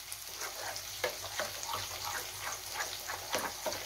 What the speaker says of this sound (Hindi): और इसमें हम थोड़ा सा कस्तूरी मेथी भी डाल देते हैं, ये भी साथ में फ्राई होगा